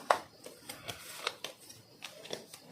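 Tarot cards are pulled from a deck one after another in a series of soft, crisp flicks and shuffles, faint and close in a quiet room.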